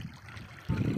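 Irrigation water flows into a field bed during cotton sowing, a low gurgling trickle that swells louder near the end with no talk.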